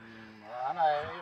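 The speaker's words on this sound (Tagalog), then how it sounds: "May mga pabo ka rin." Turkeys on a Filipino farm in Nueva Ecija or Tarlac give honking, goose-like gobbling calls that swell near the end of the short clip, mixed with faint background voices.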